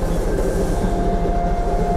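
Train rolling along its rails in an episode of the animated series Legend of Korra, a loud, steady rumble with rhythmic clattering of wheels, close and continuous with no voices.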